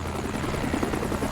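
Close, loud rotor thrum of a rescue helicopter hovering by a beach, a dense continuous chopping roar with no voices.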